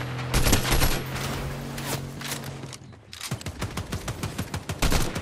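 Gunfight in a video game, a loud burst of rapid gunfire followed by a brief lull and then a rhythmic string of sharp shots, close and dense, with mechanical clicks mixed in.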